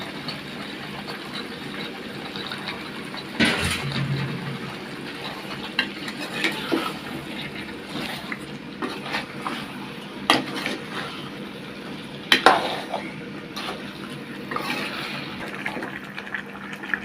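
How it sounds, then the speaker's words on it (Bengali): Wild boar meat stirred and fried in a pan with chilli, ginger, turmeric and garlic spices, a steady low sizzle broken by occasional scraping stirs and clinks. "এভাবে খসাইতে হবে, 15 থেকে 20 মিনিট খসাইতে হবে সুন্দর করে।"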